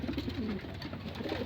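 Pigeons coo softly nearby in a short burst of low, throaty calls over a faint background hum.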